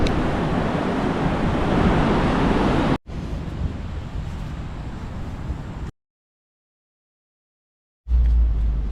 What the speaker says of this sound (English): So now here we are at Kings Beach and Bulcock Beach